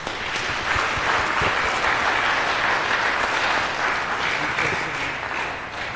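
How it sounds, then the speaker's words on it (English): Steady, dense applause from a church congregation during a Lenten Sunday Mass fills a large room, a thick wash of many clapping hands with no break. "Let us give them a round of applause."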